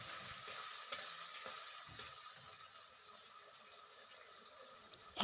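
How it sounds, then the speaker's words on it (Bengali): Ginger paste sautés with tomato in a pan for a vegetarian paneer kaliya, a steady close, bright sizzle and crackle running evenly throughout with faint scraping stirs. "এখন এই আদাটাকেও কিছুক্ষণ কষিয়ে নিতে হবে, আদার কাঁচা গন্ধটা চলে যাওয়া অবধি"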